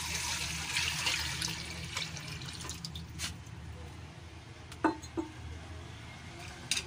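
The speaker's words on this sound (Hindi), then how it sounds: "ये देखिए पानी डाल रही हूँ" Water poured into a cooking pot on a stove while making dhaba-style chana mash dal: a steady close splashing fill with a few sharper drips and splashes toward the end.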